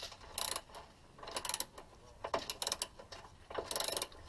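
Ratchet wrench turning a bolt on the suspension of a 2005 Chrysler 300 during a stabilizer bar bushing replacement, heard as several short bursts of rapid clicking separated by brief pauses, close and fairly quiet.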